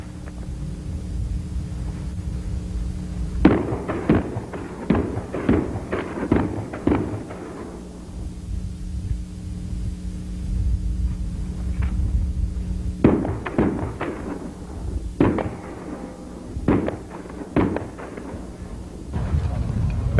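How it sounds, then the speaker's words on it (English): Pistol shots ring out at a 1988 USPSA National Championships shooting match in clusters of rapid double-taps, loud and close, with echoing tails. Someone talks over them. "Notice the double tap as he runs by the first target."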